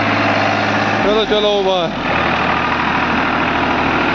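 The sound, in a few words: tractor engine revving with stuck trolley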